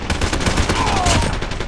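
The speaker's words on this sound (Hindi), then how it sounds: "आवाज आ रहा था इधर फायरिंग का" Gunfire in Call of Duty Mobile, a dense burst of rapid automatic shots running steadily and loudly throughout, with no voices.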